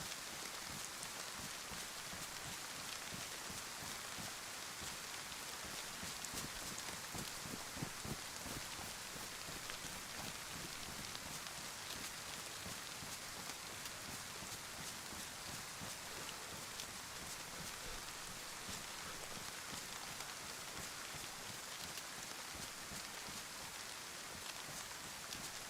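Steady rain falls in the survival video game DayZ, a dense continuous patter with fine drops ticking throughout, moderately loud and alone with no voices over it.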